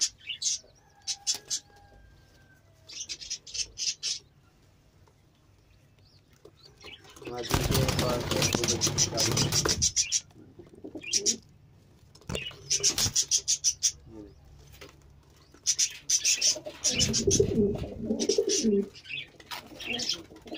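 Teddy pigeons in Pakistan coo in short soft bursts, with bouts of wing flapping and chirps between quiet gaps; a voice talks at times over the birds.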